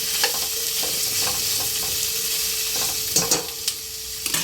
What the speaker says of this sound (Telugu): ఇలా అన్నీ వేసుకొని ఒకసారి కలిపెట్టుకోవాలి.